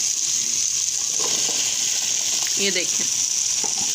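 Apple gourd (tinde) pieces added to a pan of frying meat for tinda gosht: a loud, continuous hissing sizzle fills the whole span, with a few brief spoken words near the start.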